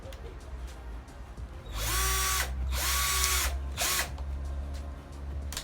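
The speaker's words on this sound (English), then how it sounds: "I'm drilling holes for the shelf." A power drill drilling holes in wood for a console table shelf whirs up in bursts, about three close, loud runs with brief pauses, the motor pitch rising and falling as it bites.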